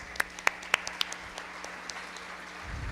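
A few scattered, distinct claps ring out in a room at a Spanish-language tax seminar, sparse and tapering off, leaving a low hum and rising background rumble.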